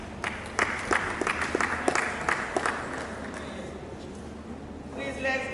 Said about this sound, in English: Please let's give Professor Ogunleye a round of applause.